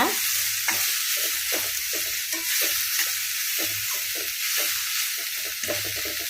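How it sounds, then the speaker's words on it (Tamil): Tamarind and coriander sauté in a hot pan for a ridge gourd chutney, a constant bright sizzle broken by steady, rhythmic scrapes of a spatula stirring close up. "புளியை சேர்த்து ஒரு 2 வதக்கு வதக்கலாங்க போதும்"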